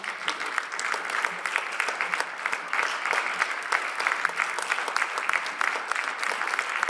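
Audience round of applause at an MLK Day celebration, steady even clapping from a sizable crowd, sustained at moderate loudness.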